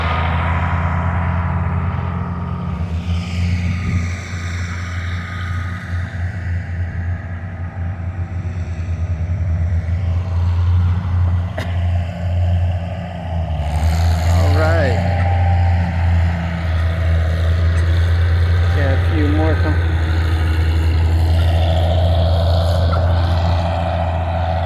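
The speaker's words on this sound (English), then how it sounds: "Flattening down the track for the next tractor." A tractor engine drones at a tractor pull in Blissfield, Michigan, a loud steady low rumble that holds for the whole stretch, with an announcer's voice heard over it at times.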